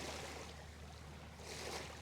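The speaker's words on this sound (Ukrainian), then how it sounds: "Звук води, такі хвильки." Soft, close lapping of small waves against a shore or boat, gentle swells rising and falling over a low background rumble.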